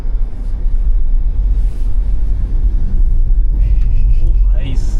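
A BYD car accelerating hard, heard as a loud, steady low rumble of engine and road noise that fills the whole stretch, with a voice heard over it.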